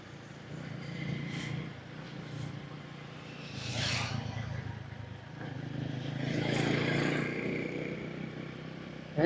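A Honda CD100 motorcycle, a 1990s 100cc bike, being ridden, its steady mid-range engine drone blending with wind rush and road noise, while a rider's voice sings over it.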